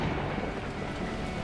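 Heavy downpour with a low storm rumble in the Beacon Pines video game, a steady dense wash of torrential rain that stays loud and unbroken throughout, with no voices.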